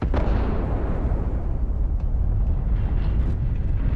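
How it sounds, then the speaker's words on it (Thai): A particle detonation in the Starfield video game lets out a sustained, loud, deep explosive roar that rumbles continuously for several seconds, dense and heavy in the low end with no talking over it. "Particle detonation concluded."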